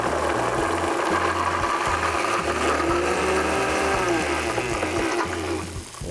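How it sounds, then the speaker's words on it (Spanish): Blender whirring steadily as it purées a sauce of parmesan with olive oil being added, a loud continuous motor drone with a slight pitch shift near the end as it winds down. "Vamos a licuar y le vamos a ir agregando aceite de oliva"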